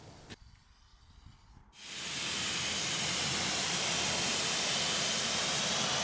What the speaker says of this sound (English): spraying it on, I'll tell you what, it just goes around really easy